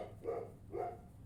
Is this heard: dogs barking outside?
yes